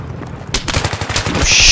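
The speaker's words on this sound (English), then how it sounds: "Somebody was shooting me." Rapid bursts of automatic gunfire in the video game Battlefield 3, loud and close, with sharp repeated cracks packed together and building in intensity toward the end.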